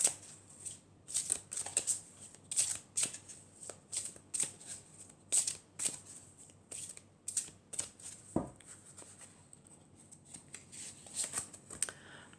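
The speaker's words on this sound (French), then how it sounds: "je vais tirer une carte" A deck of cards is shuffled and drawn for a card reading, with repeated crisp riffling flutters and snaps in an uneven rhythm, close and fairly quiet, with faint voice traces in the background.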